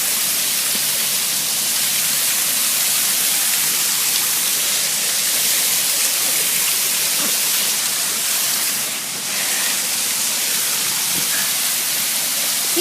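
A small waterfall gives a steady, dense hiss of falling water, close and loud, continuous throughout with no voices.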